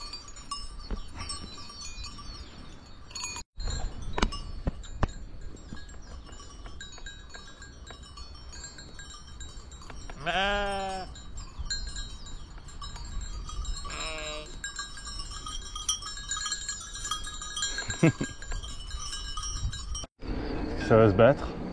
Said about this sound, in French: Mouton au nez noir du Valais.